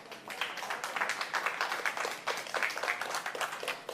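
A church congregation gives a steady round of applause during a Spanish-language service, with dense, continuous clapping heard faintly and at a distance, with no voices over it.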